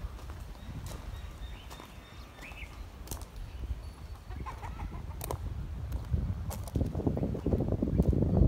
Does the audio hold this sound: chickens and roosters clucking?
yes